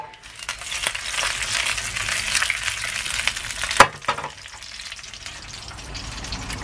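Sausages fry in a pan with a continuous close sizzle and crackle, and one sharper clatter interrupts the spitting fat partway through.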